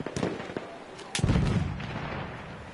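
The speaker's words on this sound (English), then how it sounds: "Grenade out!" A grenade explodes in a PS4 shooter game, a sharp close blast followed by a rumbling boom, set among other scattered gunfire cracks.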